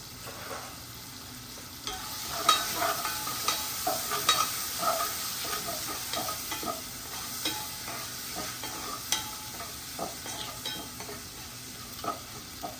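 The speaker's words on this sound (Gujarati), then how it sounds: "now we are going to mix our vagar all together" Vagar tempering with tomatoes and salt sizzles in a pan as a spoon stirs it, with irregular scraping clicks over a steady hiss, close and moderately loud.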